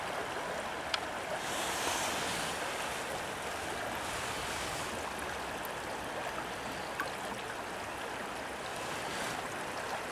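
A creek in Pennsylvania rushes steadily with a broad, continuous wash of flowing water, close and even throughout, with no talking.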